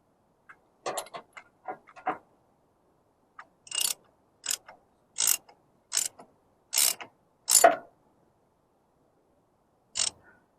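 A hand ratchet snugs up bolts on a 1983 Harley-Davidson Shovelhead, giving short bursts of sharp clicking strokes with quiet pauses between them, close up and with no talk.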